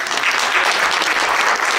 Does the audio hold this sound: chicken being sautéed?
no